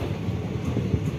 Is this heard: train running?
yes